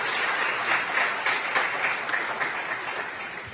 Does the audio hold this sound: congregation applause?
yes